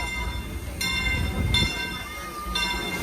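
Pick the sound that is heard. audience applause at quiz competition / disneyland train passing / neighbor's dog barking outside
disneyland train passing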